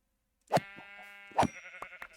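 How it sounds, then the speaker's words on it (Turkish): Sheep in Minecraft let out two distinct bleats, the second about a second after the first, each with a wavering harmonic cry and a sustained tonal tail, clear and fairly close with no talking. "Bir sürü koyun var bak meyliyorlar."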